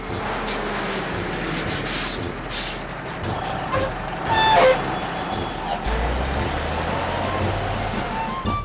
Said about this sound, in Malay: Saya menunda kereta yang rosak.